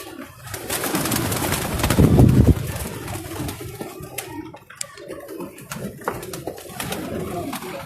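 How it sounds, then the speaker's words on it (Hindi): Female Blue Ice Lakhi pigeon cooing in soft, rounded low calls that swell most strongly midway, set among other birdsong and faint rustling close by. "ब्लू आइस लाखी मादी का शौक तुहानूं करवा रहे हैं।"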